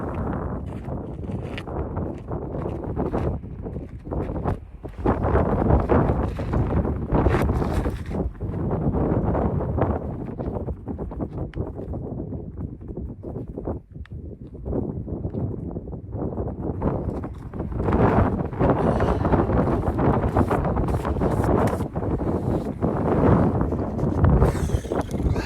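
Strong outdoor wind buffets the microphone continuously on a windy trail walk, a loud, rumbling low roar with gusting surges throughout, no clear speech.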